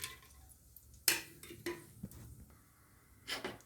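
A kadai set down on a home stove for biryani, heard as a few sharp metallic clanks and scrapes of pan and utensils, with a closer clatter near the start and another toward the end against quiet background.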